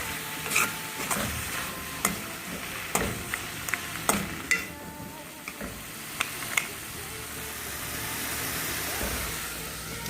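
Ginger paste stirred into a chicken fried rice mixture in a pan, with soft sizzling and intermittent spoon or spatula scrapes and clicks, fairly quiet and close, with no talking.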